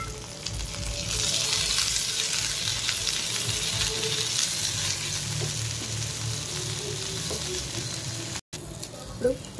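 Beans hit a hot frying pan and sizzle steadily and loudly, a dense crackling fry broken by occasional stirring clinks, with one brief dropout near the end.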